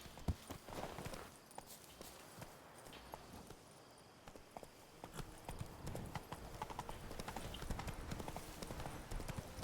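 A horse's hooves clip-clop in an even walking rhythm in the video game Witcher 3, quiet and continuous and growing slightly busier toward the end.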